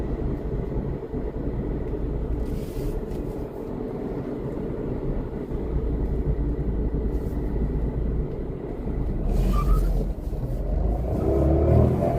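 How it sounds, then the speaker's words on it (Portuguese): A Renault Kwid accelerates hard from a start on a city street in Maceió, its engine note a steady, rising roar that builds over several seconds beneath constant road noise. "Cantadinha de pneu para começar. Esse é o Kwid, hein? Arrancada do Kwid boa aí"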